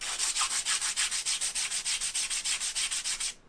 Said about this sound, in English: So you'll see I'm sharpening it flat to the sanding paper